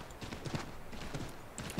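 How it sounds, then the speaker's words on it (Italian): Horse hooves gallop in the Assassin's Creed III video game, a quick rhythmic clip-clop of several beats, close and fairly loud against a faint game background. "Questi cavalli che saltano a caso."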